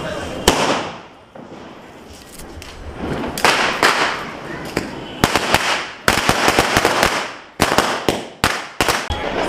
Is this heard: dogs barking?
no